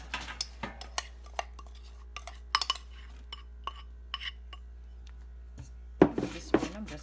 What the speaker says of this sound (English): Stir your mix up.